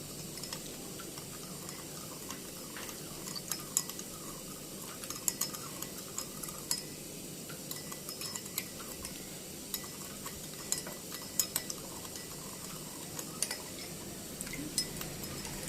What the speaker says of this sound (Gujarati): ચમચીથી બરાબર હલાવવું।